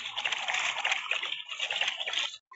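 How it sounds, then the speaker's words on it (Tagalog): Seawater splashes and sloshes close by in a continuous, churning rush that fills the whole stretch and drops out abruptly at the very end. "ito pala yung dagat"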